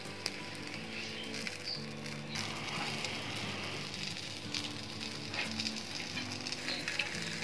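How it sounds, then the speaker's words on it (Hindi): Chicken tandoori tikka pieces sizzle steadily in a grill pan, a continuous close crackle and hiss of frying with no voices. "दोनों साइडों पे प्यारा से कलर आने तक हम इसे 2 से 3 मिनट तक पका लेंगे।"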